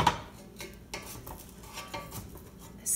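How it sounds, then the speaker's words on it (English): A metal spoon scrapes and taps around the edges of a pan of freshly baked sourdough bread, several short quiet clinks and scrapes spaced irregularly, close up with no talking. "a spoon on the edges just to kind of lift it up"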